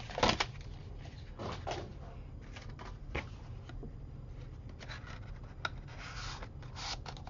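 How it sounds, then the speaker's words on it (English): Soft, intermittent snipping and scraping of small scissors through paper, close by, with quiet rustling between cuts. "So I just put my little scissors in there where I want to cut it"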